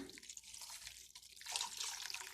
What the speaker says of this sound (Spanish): Vamos a poner agua fría.